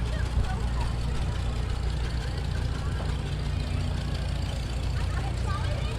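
A farm tractor engine drones steadily close by with a low, continuous rumble, while people talk over it throughout.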